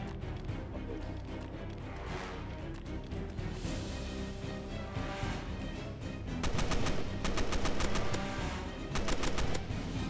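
AK rifle fire in Roblox Fallen Survival, rapid automatic bursts of sharp cracks growing louder in the later half, set against a dense, noisy battle background.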